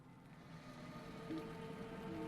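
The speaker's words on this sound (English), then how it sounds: "don't let the rain interfere with your concentration" Steady rain falls in the fantasy game Lord of the Rings Online, a close, even patter of drops on surfaces with a faint low tonal hum beneath and no voices.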